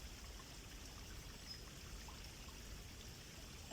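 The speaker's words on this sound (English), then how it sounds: "I can hear the water trickling" Water trickling through a forest, a soft continuous babble of steady, even level with faint birds and a distant road hum beneath it.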